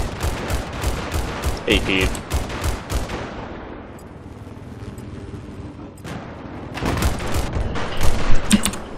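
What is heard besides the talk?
gunfire in Battlefield 4 video game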